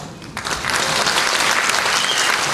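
A wedding crowd in Lviv bursts into applause as a choral composer is invited onto the stage, rising quickly after a brief pause into dense, steady clapping that continues loudly.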